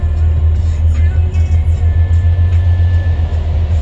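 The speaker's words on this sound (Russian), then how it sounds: "Вот летят фура." Heavy semi-trucks roar past on a highway near Volgograd in bad weather, a loud steady low rumble of fast traffic heard from inside a moving vehicle, with no talk.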